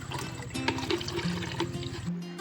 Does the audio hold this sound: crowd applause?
no